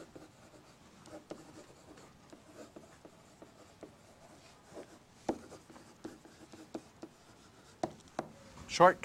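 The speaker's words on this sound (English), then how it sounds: "I guess I'll write it completely here." Quiet scratching of a pen or marker writing out a math solution, in irregular short strokes and taps with soft speech in the background, growing a little busier at the end.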